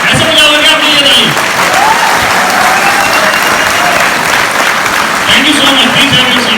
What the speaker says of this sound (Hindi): एक बार जोरदार तालियां हो जाएं आप सभी के लिए, अपने लिए ताली बजाओ यार